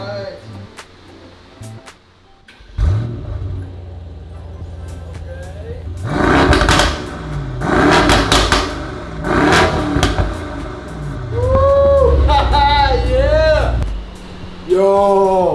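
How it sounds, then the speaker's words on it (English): A Mercedes S63 fitted with a power upgrade cranks and fires up, then revs hard several times in loud, roaring bursts with crackling pops as the throttle drops, while people talk and react nearby. "Let's go start it up. I'm very excited because I heard it's very loud."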